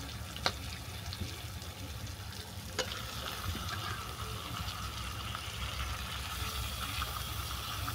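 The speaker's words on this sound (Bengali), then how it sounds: "মশলা ভালো করে কষিয়ে নেওয়ার পর দিয়ে দিচ্ছি ধুয়ে রাখা চিকেন।" Spices fry quietly in a pan while washed chicken is added for a dana chicken curry, giving a steady, soft crackling sizzle throughout. A couple of faint clicks and knocks sit over the continuous frying.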